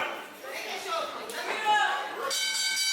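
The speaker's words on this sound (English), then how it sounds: "And there's the bell." A ring bell sounds at the opening of a tag team championship wrestling match, its ringing tone rising over crowd noise and a commentator's voice.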